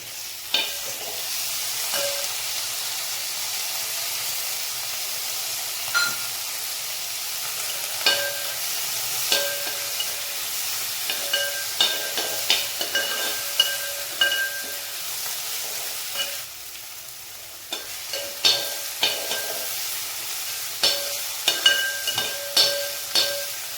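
Finely chopped tomato and onion fry in a pan with a continuous sizzle, punctuated by repeated scraping and tapping strokes of a spoon stirring, close and clear with no talking.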